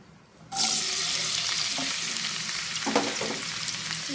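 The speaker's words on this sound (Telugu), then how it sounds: "ఆయిల్ మరిగిపోయింది దీంట్లో ఉల్లిపాయ పచ్చిమిర్చి వేసేసుకున్నానండి" Chopped onion and green chillies hit hot oil in a pan, setting off a sudden loud sizzle that then settles into a steady, close frying hiss with a few stirring clinks.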